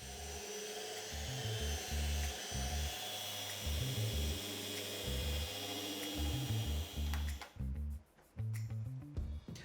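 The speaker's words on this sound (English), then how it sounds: "Now with it down here, I can finish sanding this top" A steady, droning power sander runs continuously on a tabletop with a grinding, buzzing tone, pausing briefly near the end before starting again.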